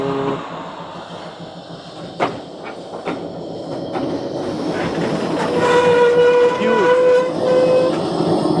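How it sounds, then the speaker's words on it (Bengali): A train moves through Khulna Junction railway yard with rumbling wheels, clanks and intermittent rattles, then a long, loud horn blast sounds near the end, close by. "এই ট্রেন এখন হয়তো ইয়ার্ডের ভিতরে প্রবেশ করবে"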